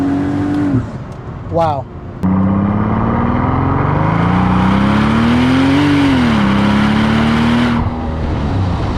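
Mercedes SL 65 AMG Black Series engine, loud and close, blips sharply, then pulls into a long, strong acceleration whose pitch climbs and dips through gear changes; a brief exclamation comes near the start.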